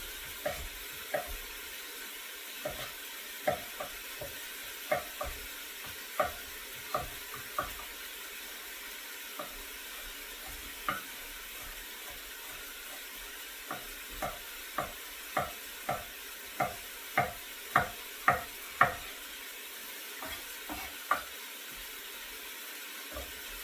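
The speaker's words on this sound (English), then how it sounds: "I can saute the carrots and the onions and the celery" Carrots, onions and celery sauté in a pan in a busy restaurant kitchen, with a faint background sizzle and a string of sharp utensil taps and scrapes that grow quicker and louder toward the end.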